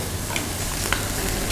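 Steady close sizzling of shallots roasting in a hot pan, a dense crackling hiss with occasional small pops, no voices.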